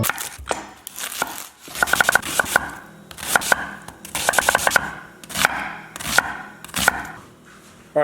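A knife chops peppers and Hatch chilies on a cutting board with sharp, uneven bursts of taps and short quick runs, close and clear with brief pauses in between.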